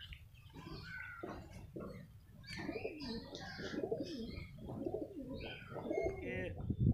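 A big pigeon coop after a night of heavy rain is full of close, continuous cooing from several birds, with rolling throaty calls overlapping throughout and no talk.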